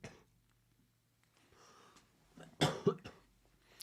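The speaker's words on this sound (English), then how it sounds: "I got a little bit of a cough" A person coughs a few times, faint and close, with throat-clearing and breathy bursts, the loudest pair near the end amid quiet room tone.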